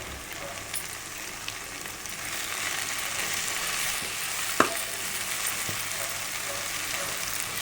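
Chicken frying on high flame for a gongura chicken curry gives a steady, moderate sizzle and crackle throughout, with an occasional sharper pop or spatter and no talking.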